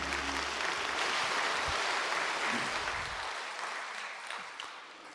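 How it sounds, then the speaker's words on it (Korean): A church congregation claps in welcome, a broad, loud wash of applause that holds for several seconds and then gradually fades toward the end. "돌아서 인사하고 들어가실 때 환영의 박수 해주시기 바랍니다"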